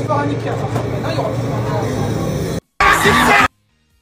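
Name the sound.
cinema audience yelling and shouting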